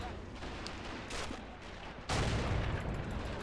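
Artillery fire in the video game Men of War during a D-Day Normandy landing with American tanks: muffled booming blasts roll in, then a heavy barrage erupts loudly and keeps rumbling.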